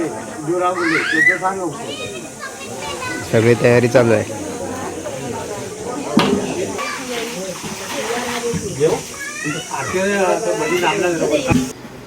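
A hot tempering hisses and sizzles as it goes into a huge pot of chicken being cooked for a Konkan village haldi ceremony feast. The steamy hiss comes in bursts under loud, nearby conversation between several people.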